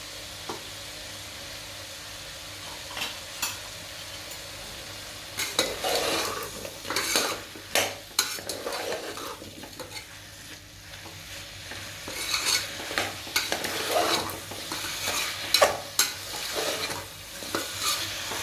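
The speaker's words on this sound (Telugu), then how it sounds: "బంగాళదుంపలు అన్నీ వేసుకుని మరోసారి కలుపుకోవాలి." Potatoes are stirred into frying vegetables for vegetable khichdi, a spoon repeatedly scraping and clinking the pan in uneven bursts over a low sizzle.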